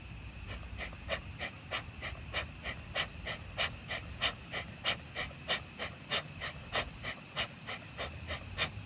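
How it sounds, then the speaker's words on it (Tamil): Slow, rhythmic breaths through one nostril at a time in nadi shuddhi practice, close and soft, each exhale a short airy rush repeating steadily about every half second. "ஒரு மூக்கு அடைச்சிட்டு ஒரு மூக்குல மூச்சு விடுறீங்க"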